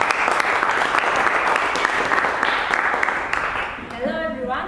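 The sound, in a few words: audience applause at a Toastmasters meeting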